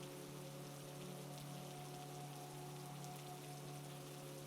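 Steady winter rain falling on a surface, a continuous soft hiss of dense drops with a faint low hum underneath, even and unbroken throughout.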